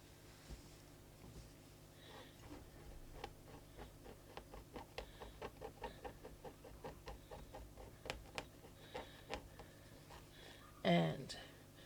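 A stitch eraser unpicking satin stitch embroidery lettering, giving a soft series of quick ticking clicks that speeds into a steady patter, faint and close under a low hum, with one louder rustle near the end.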